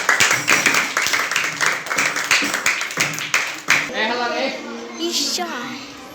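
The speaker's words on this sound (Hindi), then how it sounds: "नाउ क्लैपिंग, ताली बजाओ।" A group of schoolchildren in a classroom clap in quick rhythmic bursts for a few seconds, then voices and chatter take over.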